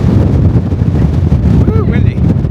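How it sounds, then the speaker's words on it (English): Strong wind at the Gateway Arch, a loud, close, gusty rumble buffeting the microphone without a break, with a voice briefly heard over it. "Woo, windy."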